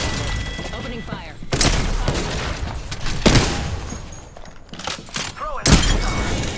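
Bursts of video game gunfire crack out in several loud volleys mixed with thuds and impacts, while game voices talk over the shooting.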